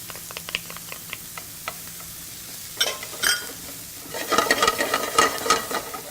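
Lamb and garlic with Moroccan spice frying in a pan, starting with scattered light ticks and pops, then swelling into a busy, close sizzle as the meat goes in, with stirring scrapes and no voices.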